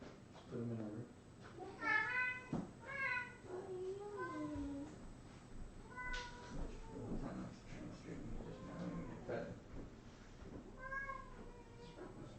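A house cat meows several times in a home during a live stream, the calls rising and falling close by while people talk over and between them.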